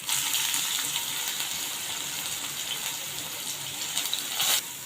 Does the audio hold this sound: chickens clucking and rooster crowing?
no